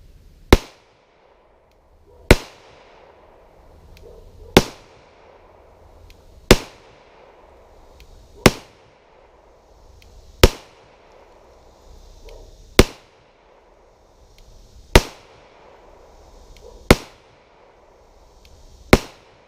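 An FMK 9C1 G2 9mm pistol fires 115 grain full metal jacket rounds at about 7 yards at a range: ten sharp, evenly spaced single shots roughly two seconds apart, each with a short decay.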